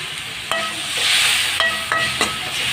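Tomatoes with a pinch of turmeric sautéing in a pan: a steady oily sizzle with several sharp metallic clinks and scrapes from stirring, close and fairly loud, no talk.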